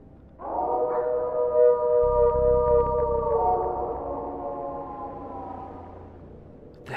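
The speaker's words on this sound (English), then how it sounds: "we started hearing these howls in the distance." A long, wavering animal howl, dog- or coyote-like, heard outdoors near a hiking trail and campsite; a single sustained cry with harmonics that swells then slowly fades, sounding distant and alone.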